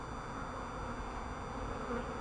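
Steady, dense buzzing of many honeybees swarming close by around a newly installed hive, a continuous drone with no talking.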